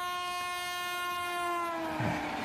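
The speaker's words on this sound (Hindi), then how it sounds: "ये मुसलसल हॉर्न बजाता हुआ" A diesel locomotive horn blows in one long, continuous, loud tone, its pitch sliding slightly as the Bikaner–Sealdah Duronto Express passes close by with rumbling underneath.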